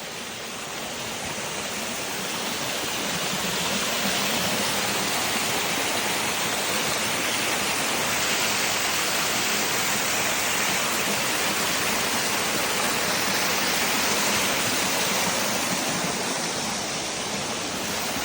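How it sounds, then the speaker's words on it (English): Steady, loud roar of a waterfall in DeSoto State Park, Alabama, heard up close as a continuous broadband rush with no talk. "Logan, what'd you say when I told you we were going to the bottom of the waterfall?"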